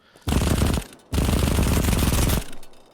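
A Scorpion gun fires with extreme recoil in a video game, two long, dense automatic bursts of rapid shots, loud and close, separated by a brief gap and ending in a fading tail.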